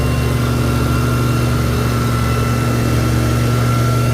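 Cockshutt Deluxe 50 antique tractor running steadily at a county fair tractor pull, a loud, continuous engine drone with a strong low hum and no break across the whole stretch.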